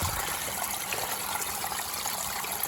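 Fresh mountain spring water trickling and splashing along a hiking trail, a steady close wash of flowing water running without pause and with no voices.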